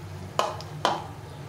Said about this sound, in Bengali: এখন এই তেলে এই ফুলুরিগুলো ভেজে নেব।